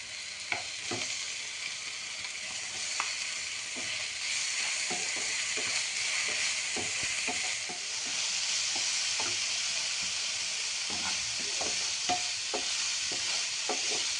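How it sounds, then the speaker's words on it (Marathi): A ground chili, garlic and cumin paste fries with browned onion for a village-style brinjal bharit, giving a continuous hissing sizzle with frequent spatula taps and scrapes up close, and no talking. "हे आपण वाटण करून घेतलेलं मिरची, लसूण आणि जिरं आता हे टाकून घेते मी आता."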